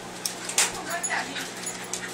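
A dog whimpers and yips in short high bursts amid a lively household scene, with people talking over it throughout.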